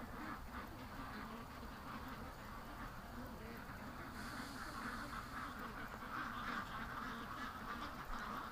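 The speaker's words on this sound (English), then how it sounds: "Canada geese honking on the lake freaks the ducks out" Ducks quack in a steady, restless chorus near a lake while Canada geese honk alongside them, the calls overlapping continuously over a dense outdoor background.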